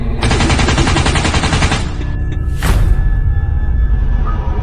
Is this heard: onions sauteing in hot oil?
no